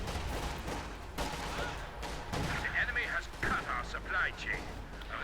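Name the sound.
gunfire in Company of Heroes 2 video game battle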